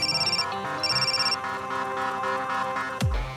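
A mobile phone ringtone plays in a hospital setting, a repeating electronic melody in two bursts over background music, followed by a low sweeping whoosh.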